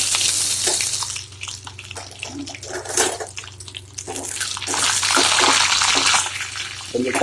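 Chana dal sizzles and pops in hot oil in a pan, with a steady loud hiss and crackle and bursts of spattering throughout.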